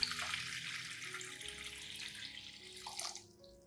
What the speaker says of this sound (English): Then, wash it with water,